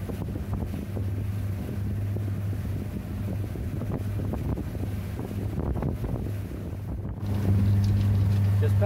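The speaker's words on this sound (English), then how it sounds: "A little gusty out here, but overall it's not too bad." Gusty wind buffets the microphone aboard a sailboat motor-sailing at sea between Bimini and Grand Bahama, with a low engine drone underneath and rushing water, loud and continuous, rising harder near the end.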